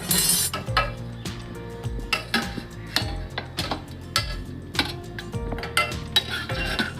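Boiled chicken being lifted out of its stock in a pot, with repeated close metallic clinks and knocks of a utensil against the pot, irregular and fairly crisp, with no talking.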